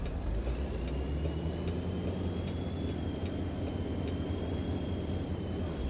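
A truck engine in the American Truck Simulator video game idles as a quiet, steady low drone with a faint whine running through it, with no voices.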